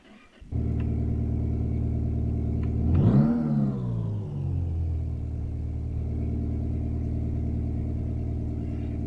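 A junkyard car's engine runs loudly and steadily as it is driven, with a rising rev and surge partway through before settling back to a constant droning rumble, close and without talking.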